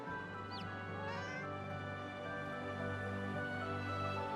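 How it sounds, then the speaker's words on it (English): A cat yowls in the fantasy role-playing game Divinity: Original Sin 2, a short rising and falling meow heard faintly over a steady droning, hum-laden game ambience with soft background music. "The cat lifts his head and yowls, then focuses on his mutated meal."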